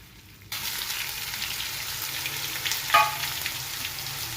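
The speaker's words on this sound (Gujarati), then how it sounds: "જે આપણે આદુ મરચાંની પેસ્ટ બનાવી એ નાખી દઈએ છે" A sudden burst of sizzling as ginger-chili paste hits hot oil with cumin, then steady frying hiss continuing, with a brief stir-like scrape near the end.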